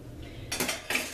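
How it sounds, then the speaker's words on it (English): A metal fork clinks twice against a dish of scrambled egg as it is lifted out, two short bright clatters close by in a quiet kitchen. "I'm gonna get my fork out of there."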